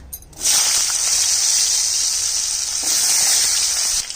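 Carrot pieces drop into hot oil for a Bengali shukto and set off a loud, steady, close sizzle. It keeps up without a break for about four seconds.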